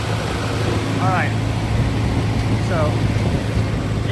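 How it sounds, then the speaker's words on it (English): A 2015 John Deere 245G LC excavator idles with a steady, loud engine drone and hum throughout, while someone speaks briefly over it. "So, engine runs good."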